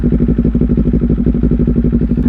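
A Kawasaki Ninja 400 fitted with a Leovince LV10 exhaust idles up close, a loud, even, rapid pulsing throb that holds steady throughout.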